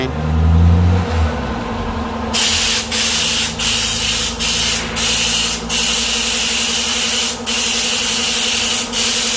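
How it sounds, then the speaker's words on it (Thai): Gear oil sprayed onto a truck to prevent rust, loud hissing bursts in repeated pulses with short gaps, over a low engine-like hum. "ฉีดน้ำมันเกียร์กันหน่อย"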